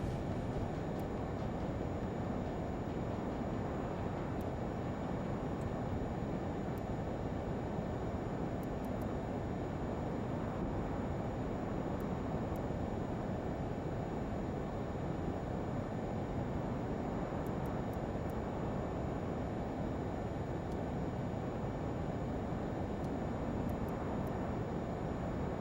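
A Learjet 35 taking off in Microsoft Flight Simulator 2024 from Provo, producing a steady, loud broadband jet roar that holds without a break for the whole stretch, with no one talking.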